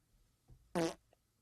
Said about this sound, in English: That was a more stale fart.